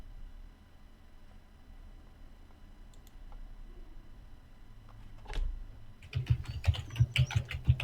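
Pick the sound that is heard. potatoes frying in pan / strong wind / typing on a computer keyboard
typing on a computer keyboard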